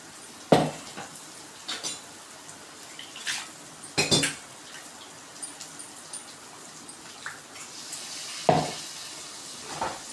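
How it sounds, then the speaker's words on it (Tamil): A ladle stirs chana butter masala with chili powder and salt in a pan, scraping and clinking against the metal in scattered sharp knocks over a faint background sizzle. "கரண்டி வச்சு மிக்ஸ் பண்ணி விட்டுக்கலாம்"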